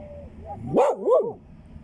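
A dog barks twice in quick succession, close and fairly loud, with a quieter whine just before, against a low background hum.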